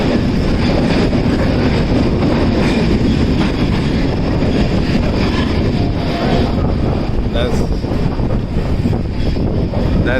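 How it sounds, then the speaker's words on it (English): A train locomotive rolls out of a tunnel with a loud, continuous rumble and clatter, heavy wind buffeting the microphone throughout. "Here comes the exit of the tunnel. I hope you can see the locomotive."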